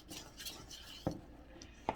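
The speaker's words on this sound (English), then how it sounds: "so I'm going to mix this together." Persimmon cookie batter being mixed by hand in a bowl, with two sharp, isolated clinks of a utensil against the bowl over a quiet, faint kitchen background.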